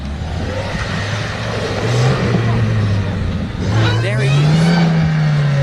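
A Lada Niva 4x4 on off-road tyres drives through mud with its engine droning and revving, the pitch climbing and swelling loud toward the end, while people talk nearby.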